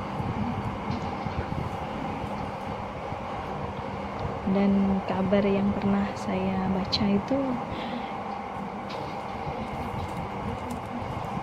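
A light rail train on the Palembang LRT rumbles along with a steady low hum and a rising whine, heard from inside the car while someone talks over it.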